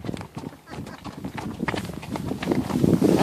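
Horse hooves clip-clopping along a trail in Cave Creek park, a steady run of close hoof strikes growing louder toward the end, with a rider talking over them.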